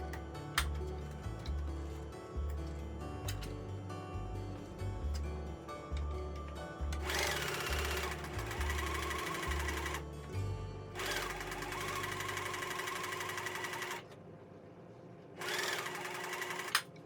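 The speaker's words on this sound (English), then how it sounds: "switch your machine to a gathering stitch and go ahead and gather" Sewing machine running a gathering stitch on a Vogue 1862 gathered dress, a rapid steady mechanical chatter in long stretches broken by brief pauses and restarts, close and clear.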